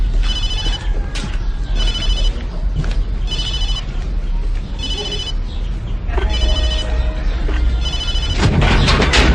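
A telephone rings in short repeated bursts of bright electronic trills, about five rings spaced roughly a second and a half apart, fairly loud indoors over a steady low background hum.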